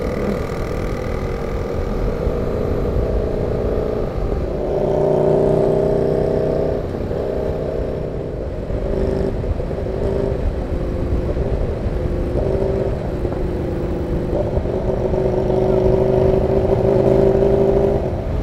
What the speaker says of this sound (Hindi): इस डुकाती की बहुत आवाज है।